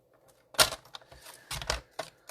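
A paper trimmer slices through cardstock with a few sharp, close, crisp cutting and clicking sounds in short bursts, separated by near silence.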